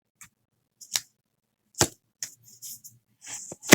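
Oracle cards shuffled by hand, heard as a series of short, crisp riffling snaps and flicks in irregular bursts, close and fairly quiet, with no talking.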